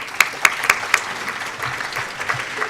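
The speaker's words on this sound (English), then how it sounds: "So let's give them a round of applause." A conference audience applauds in a quick burst of sharp claps, loud and close at first, then thinning into scattered softer clapping.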